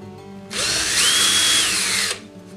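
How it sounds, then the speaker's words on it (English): Power drill with a 1/8 inch bit boring a shallow pilot hole in 3/4 inch stock, one loud close burst of whining spin lasting under two seconds amid a quiet room, no talk. "I'm just going to start them with an 1/8 inch bit. I'm not going very deep."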